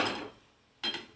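Cooked karadai (safflower) greens scraped onto a plate in a home kitchen, a brief clatter of a utensil against cookware at the start, then a quiet pause and a second short clink near the end.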